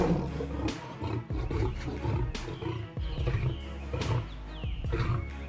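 An angry lion roars repeatedly during a fight with a tiger, loud, deep and close, with harsh bursts and snarls following one another over continuous growling and no talk.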